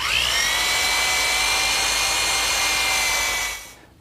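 Power drill boring a pilot hole with a 1/4-inch bit in a woodworking shop: a loud, steady high whine lasting about three and a half seconds, then winding down and stopping.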